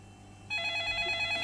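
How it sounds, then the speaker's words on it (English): A telephone rings with a bright electronic tone that starts suddenly partway through and holds steady, fairly close and clear over low background hum, with no voices. "Which is when I heard a phone ringing."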